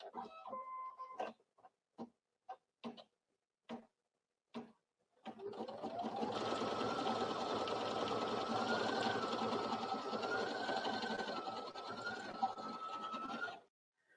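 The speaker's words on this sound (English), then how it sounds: "This means instead of having to manually put the presser foot down, I can simply start embroidering." An embroidery machine at a quilt festival booth starts after a few sparse clicks and beeps, then stitches a design in a steady buzzing whir with a shifting tone, stopping near the end.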